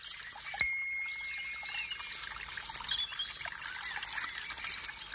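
Steady rushing, trickling water from a waterfall in an audiobook scene, a continuous close wash with a brief bright ding near the start, no talk over it.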